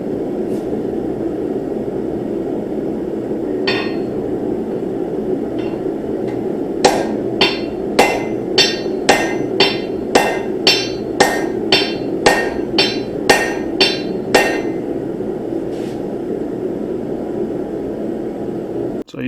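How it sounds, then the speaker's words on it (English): Hammer blows shaping a forged seax blade on an anvil, a quick run of about a dozen sharp ringing strikes in steady rhythm over a constant background roar, with a couple of earlier isolated hits. "you're just pretty much focusing your hammer blows towards where you made that first indentation"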